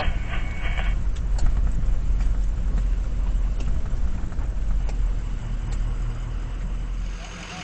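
An off-road vehicle grinds down a slippery muddy slope, its engine droning low and steady with a constant rumble of wheels over terrain, close and loud throughout before easing slightly at the end, no voices.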